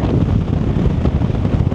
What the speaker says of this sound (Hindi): बहुत ज़्यादा तेज़ हवा है